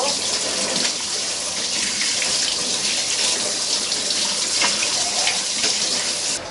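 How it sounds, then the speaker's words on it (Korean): Tap water runs steadily over a whole raw chicken being rinsed in a kitchen sink for samgyetang, a continuous close splashing hiss that lasts throughout with no break. "잘라주시고 물로 한번 씻어주시면 됩니다"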